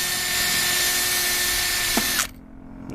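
A power drill drills into a 2001 Subaru Outback, running steadily at high pitch, then stops abruptly, leaving a quieter background hum.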